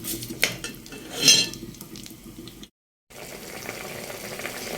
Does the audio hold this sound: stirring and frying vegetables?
yes